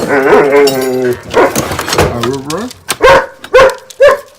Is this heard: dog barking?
yes